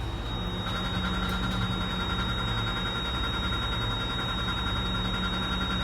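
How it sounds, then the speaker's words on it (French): A 2006 Toyota Highlander Hybrid, battery compartment open, runs with its engine on, giving a steady, even low hum and faint mechanical whine throughout, with no talking. "le moteur est démarré"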